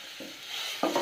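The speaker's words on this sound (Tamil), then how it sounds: "இப்போ கொஞ்சம் மீடியம் ஃப்ளேமில் வச்சு வதக்கிக்கோங்க." Ginger garlic paste sautéing on a medium flame gives a brief, even hiss, with a couple of quick utensil scrapes against the pan.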